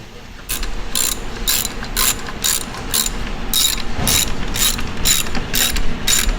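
A hand ratchet clicks rapidly while tightening a socket head cap screw into a threaded bushing on a Yamaha R9 motorcycle exhaust bracket, a close, crisp series of about a dozen evenly spaced clicks alone.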